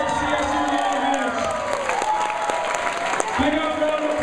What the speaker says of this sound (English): Big up round of applause for Deanza Colors.